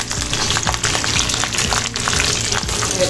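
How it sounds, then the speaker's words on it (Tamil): Curry leaves and dried red chillies spluttering in hot oil for a Tamil drumstick gravy tempering, a dense, steady crackling sizzle with rapid pops running loud and close throughout, no voices. "கொஞ்சம் நல்லா பொரிய வச்சுக்கணும்."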